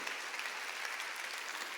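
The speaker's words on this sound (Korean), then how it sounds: "박수" A Korean church congregation at a Wednesday worship service claps together, a brief, even wash of applause in a large room with no talking over it.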